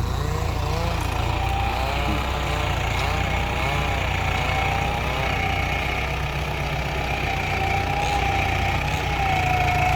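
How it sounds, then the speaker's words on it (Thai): A large farm tractor, one of its blades broken, runs while digging out eucalyptus stumps, producing a continuous heavy, low engine rumble close by with a faint voice over it. "แต่ว่าแท็กเตอร์ที่นำมาใช้ ส่วนมากก็จะมีแต่แท็กเตอร์ใหญ่ ๆ ครับ รถไถคันใหญ่ ๆแบบนี้ครับ"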